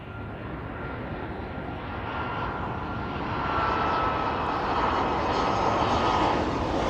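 A Ryanair airliner moves along the runway at East Midlands Airport, its jet engines giving a steady, loud, broad roar that swells slightly toward the end.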